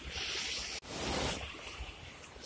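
High floodwater on a swollen river, rushing in a loud, steady broadband roar with wind buffeting the microphone and a brief dropout near the start.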